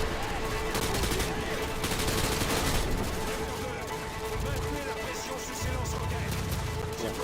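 Continuous gunfire and bursts of shooting in the video game Call of Duty: Modern Warfare II, a dense battlefield din of shots and impacts with a voice speaking over it.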